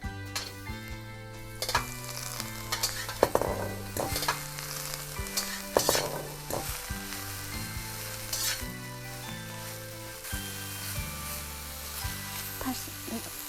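Garlic frying in a pan for a fresh vegetable sandwich, heard as a soft sizzle with occasional stirring clatters under prominent background music.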